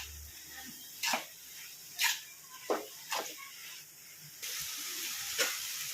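Raw banana slices with chili powder, turmeric, garam masala and coriander powder sizzle quietly in a pan, broken by several short, sharp scraping strokes of stirring at roughly one-second intervals.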